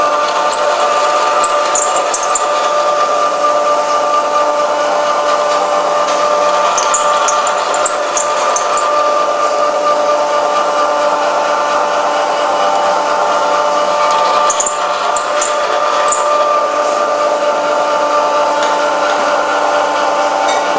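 A pasta machine rolls goat's cheese ravioli dough in a restaurant kitchen, a steady mechanical whirring hum running continuously and fairly loud throughout, with faint brief clicks and no talk.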